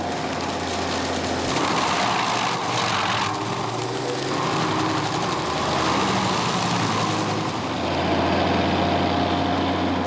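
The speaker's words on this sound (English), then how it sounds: "This giant beaver mechanically transmits the 600 horsepower directly into the cutter head." A forestry mulcher with a 600-horsepower cutter head working on trees, a loud continuous heavy engine roar with grinding, churning texture that holds steady throughout.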